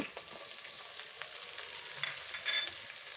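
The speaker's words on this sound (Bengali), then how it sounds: "এখন আমি দিয়ে দিব পেঁয়াজ কুচি।" Chopped onions and chillies fry in a pot with a soft, continuous sizzle and faint crackles, heard up close and quietly, with no talking.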